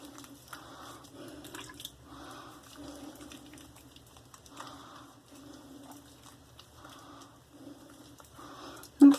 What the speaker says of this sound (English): let me rinse my hands off because that is very, very slick